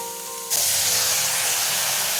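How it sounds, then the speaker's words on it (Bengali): A little water hits chopped onions in a hot, dry wok and bursts into a loud, sudden sizzling spray that keeps hissing steadily afterward. "এখন আমরা কড়াইয়ের উপর যোগ করবো খুব সামান্য পরিমাণ জল।"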